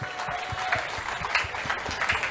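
Loud crowd applause at an outdoor public rally in a Gandhi Nagar market, a thick, continuous roar of many hands clapping close and steady throughout.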